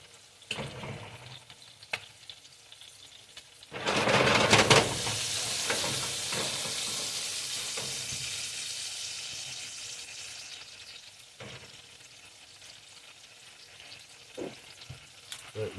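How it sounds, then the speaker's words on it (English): Mushrooms and onions for Salisbury steak hit a hot pan and burst into loud, close sizzling and popping, then settle into a steady hiss that slowly fades, with faint clinks around it. "Now that it's sizzling and popping."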